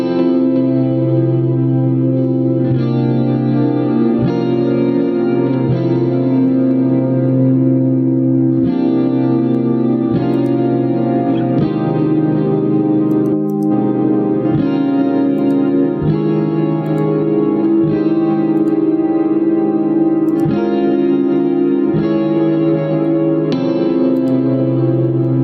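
Electric guitar played through compression and layered effects, a sustained, dense chordal tone with reverb and echo tails, steady and loud throughout with brief breaks between phrases.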